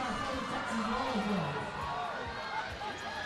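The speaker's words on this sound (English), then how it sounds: "Some cheer wars happening." Roller derby crowd at a regional tournament game between Texas and Atlanta, with rival cheering sections shouting and cheering at once in a loud, continuous arena din mixed with chatter.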